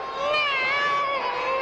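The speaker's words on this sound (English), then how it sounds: "Oh, shut up, you stupid cat." Cartoon cat meowing in a Smurfs episode, one drawn-out, wavering, high-pitched yowl that is loud and close and heard on its own.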